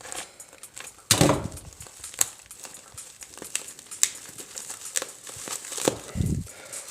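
Crinkly yellow plastic adhesive tape rustles and tears close by, with a loud rip near the start and scattered crackles as a parcel is pulled open.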